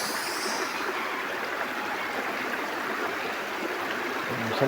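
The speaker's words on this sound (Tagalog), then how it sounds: "Limpyo man kayo ang among sapa." A small, clean river stream flows in a constant splashing rush, close by and steady throughout, with no talk over it.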